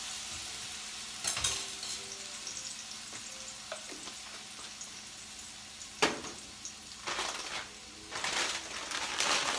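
Minced garlic frying in hot oil in a pan, a low steady sizzle with a few sharp clinks and scraping stirs breaking through, close and moderately quiet.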